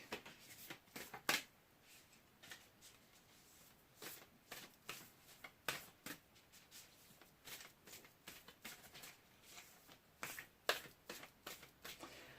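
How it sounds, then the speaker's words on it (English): Large tarot cards being shuffled by hand in irregular bursts of crisp riffling and slapping, close up, with quiet pauses between. "I try to shuffle it the normal way, but they are so incredibly big"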